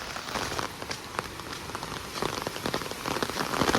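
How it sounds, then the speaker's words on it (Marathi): Light monsoon rain falls in a Konkan village, a dense steady patter of drops striking nearby surfaces, growing a little heavier toward the end, with no one speaking. "हा बघा मंडळी, आता पाऊस पडतोय थोडा."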